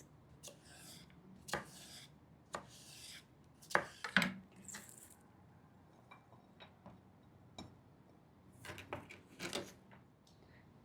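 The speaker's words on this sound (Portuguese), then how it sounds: "Vamos cortar o salsão em tiras bem fininhas." Knife chopping celery into thin strips on a board, irregular clusters of sharp close cuts with brief pauses between bursts, no voices.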